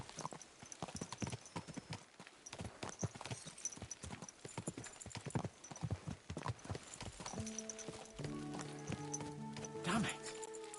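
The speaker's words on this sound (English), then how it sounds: "Let's really spur these horses on, eh?" Horse hooves clip-clop rapidly in a galloping rhythm in the video game Kingdom Come: Deliverance, with a game character's voice speaking over parts of the run and music tones entering near the end.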